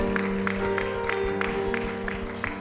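A congregation claps steadily in rhythm during a Spanish-language Sunday church service, the dense clapping filling the room over background music.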